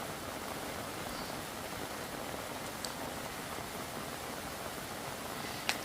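Steady rain falls over a Kerala vegetable plot, a soft, even hiss with an occasional louder drip.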